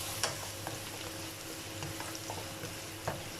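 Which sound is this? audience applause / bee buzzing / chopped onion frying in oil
chopped onion frying in oil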